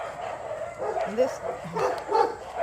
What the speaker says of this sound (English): The dogs are all going crazy.